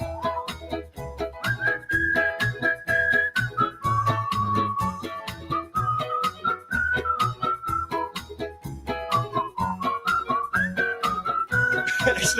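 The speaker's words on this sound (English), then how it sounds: "there's some whistling that happens now." A sustained whistled melody wavers over a steady band backing during a live album launch at The Green Duck, loud and continuous with drums keeping a regular beat beneath.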